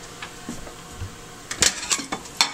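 Soft clinks and scrapes of utensils against a pan and platter as crispy bacon is moved, a few sharp metallic taps over faint background hiss.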